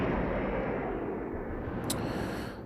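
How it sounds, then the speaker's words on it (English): A loud explosion roars through a shooter in the video game RayStorm, a dense wash of rumbling noise that holds steady for a couple of seconds, then fades with a brief sharp crackle near the end. "Oh, there's a nice explosion too."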